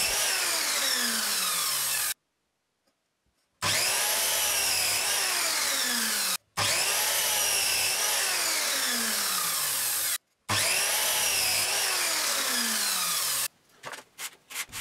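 Power saw cutting wooden parts for a homemade portative organ keyboard, in four loud sustained passes of a few seconds each, separated by brief silent pauses, with no talk.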